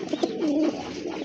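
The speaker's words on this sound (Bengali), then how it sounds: "মাশাআল্লাহ আরেক জোড়া কবুতর" Native domestic pigeons coo softly and close by in a short, low, rolling call over a steady background hum.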